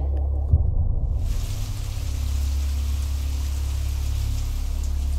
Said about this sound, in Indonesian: ternyata di luar hujan.